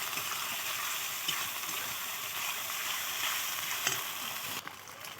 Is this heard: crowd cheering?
no